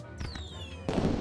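Fireworks bursting in the boulder-rolling siege game Rock of Ages 2, a whistling rise followed by a loud crackling blast that fills the end of the moment.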